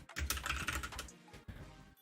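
Fingers type quickly on a computer keyboard, a dense run of close clicking keystrokes with a brief pause before a few more taps.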